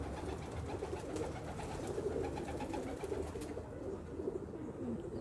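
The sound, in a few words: high flyer pigeons cooing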